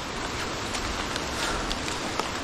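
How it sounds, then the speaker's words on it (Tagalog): Heavy rain pours down in a steady, dense hiss that fills the whole stretch evenly, loud and close, with no voices. "Ay tumudo naman ng ulan."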